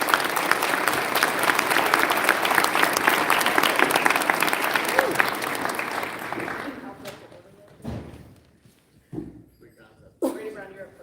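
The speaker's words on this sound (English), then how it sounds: "So let's give a round of applause to all these kids." An audience at a school one-act play public performance applauds graduating seniors: full crowd clapping for about six seconds, then it thins to scattered claps and a spoken voice.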